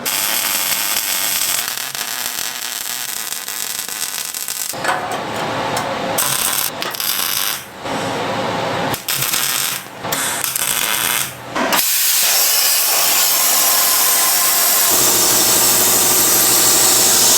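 Plasma cutter slicing thin bracket pieces for a mini split mount in a shop, a loud, steady hissing roar running nearly the whole time with short breaks and stutters midway before resuming.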